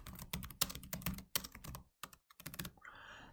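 Quick bursts of typing on a computer keyboard, close and clear, with a few short pauses between the runs of keystrokes and no talking.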